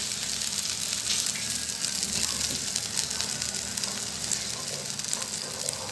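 Turmeric powder frying with already-fried garlic and onion in a pan for a spicy tarkari, a steady close sizzle with soft scraping of stirring running throughout, no voices.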